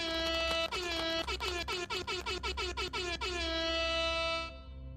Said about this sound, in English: He says need more air horn.